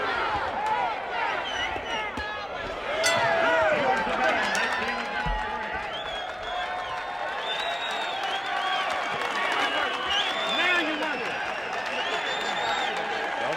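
A boxing crowd in a Nashville arena cheers and roars steadily throughout a fight, a dense wash of voices and shouts with scattered claps, while a commentator talks over it.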